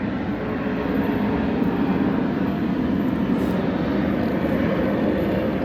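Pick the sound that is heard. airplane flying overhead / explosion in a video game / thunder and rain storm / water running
airplane flying overhead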